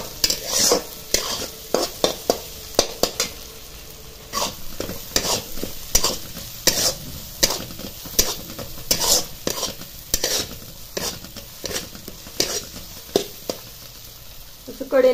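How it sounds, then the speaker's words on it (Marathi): Ground roasted masala paste for shingori amti sizzles in oil while a spoon scrapes and stirs it in frequent uneven strokes, with occasional metallic taps against the pot, close by. "मसाल्यांना जास्त वेळ लागत नाही परतायला"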